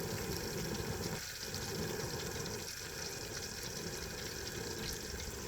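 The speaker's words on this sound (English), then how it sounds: "Pull them out slow. Let them drip off." Liquid trap dye runs off freshly dipped steel traps in a continuous, fairly loud gushing patter, steady and close throughout with no voices.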